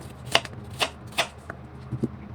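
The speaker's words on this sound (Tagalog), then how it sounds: "Meron din tayo itong carrots. Slice lang natin ito ng maliit." A knife slices carrots on a cutting board in a home kitchen while chicken curry is prepared, giving four or five crisp, separate chops about half a second apart, close and clear.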